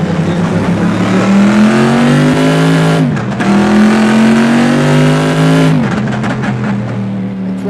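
A car engine in a racing video game revs hard and holds a high, steady whine, drops briefly as if shifting, climbs again, then dips once more, loud and close, with no talking.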